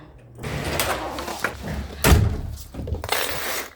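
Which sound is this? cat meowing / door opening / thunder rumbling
door opening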